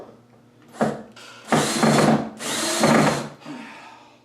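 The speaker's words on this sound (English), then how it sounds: "I'm just gonna run good old construction screws in here" A power drill drives construction screws into wood with a Phillips bit during a woodworking build: a short burst, then two longer whining runs and a brief tail, loud and close with no talking.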